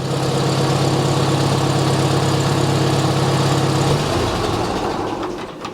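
A Farmall Super A tractor engine idles steadily after a cold start, a loud, even low drone with a rhythmic throb that cuts off near the end, close by with no talking.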